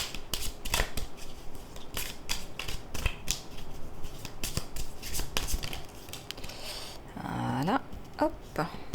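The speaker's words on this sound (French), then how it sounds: "Alors, on va prendre les cartes de l'archange Raphaël." Archangel Raphaël oracle cards being shuffled, giving rapid papery riffles and flicks close by, repeated in bursts, with someone speaking French over parts of it.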